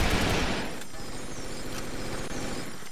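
Gunfire in the blocky online shooter Brick Force comes as a dense rattle of rapid shots over a constant noisy game backdrop.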